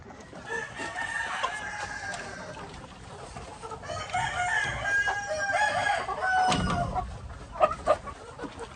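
White leghorn chickens on a farm clucking and crowing, several birds calling close by in overlapping bursts, with a rooster's crow rising partway through and no talking.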